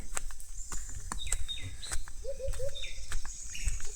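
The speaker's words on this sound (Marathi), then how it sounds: "पक्ष्यांचा आवाज बरा येता" Several birds call and whistle nearby in short repeated phrases over a low steady background rumble, with no talking.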